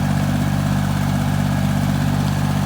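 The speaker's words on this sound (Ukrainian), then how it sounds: "Так виходить тракторець, чітко стає в колію і отак от працюємо" Tractor engine running steadily while a cultivator works between rows of tall cabbage in a field, a loud, close, constant low rumble with no break or talking.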